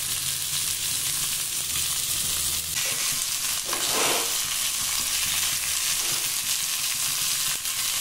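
Semolina-coated fish frying on a tawa gives a steady, close sizzle that holds throughout, with a few brief scraping touches and no talking.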